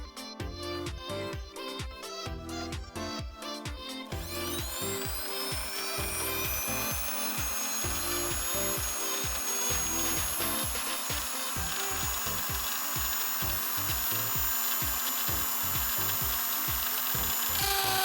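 A cheap power drill bit whines steadily at high speed, grinding and chattering against hard material with a harsh, rough rasp that never breaks through.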